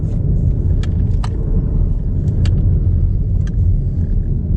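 A Honda E electric car drives along with a low, steady road rumble and tire roar, light clicks and taps occasionally breaking through from inside the cabin.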